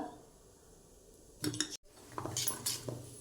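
Dhokla batter being stirred in a bowl, a spoon clinking and scraping against the dish in short bursts after a quiet stretch, close and soft.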